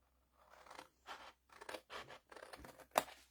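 Scissors snip through folded paper for a desk organizer craft project, making several short, crisp cutting strokes in separate bursts, close and fairly quiet with no talking.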